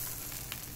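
Tater tots sizzle on a Blackstone 22-inch griddle, giving a brief, steady, close frying hiss with no voices.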